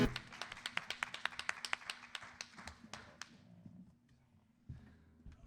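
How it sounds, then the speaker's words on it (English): Applause from a small audience after a live country song, a run of sharp, distinct hand claps that thins out and stops after about three seconds, followed by quiet room noise. "Another round of applause for these guys."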